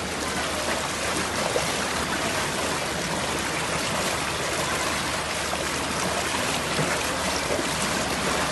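Steady, dense rushing roar of strong floodwater flowing through a flooded Jakarta street, close and continuous with no breaks.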